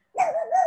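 A single dog bark, close and fairly loud, one short yip-like bark on its own with no talk around it.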